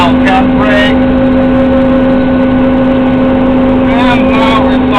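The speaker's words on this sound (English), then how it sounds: "We need to start the equipment. Then we need to full gas." Farm machinery engine on a dairy farm runs at full throttle, a steady loud drone with a strong constant hum throughout, while a person talks over it.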